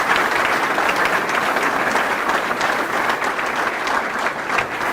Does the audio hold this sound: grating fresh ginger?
no